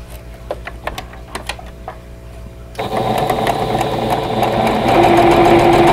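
Sewing machine stitching quilt block pieces together, a half square triangle unit joined to a square: a few light clicks and handling at first, then a steady close motor whir that builds and runs loud to the end.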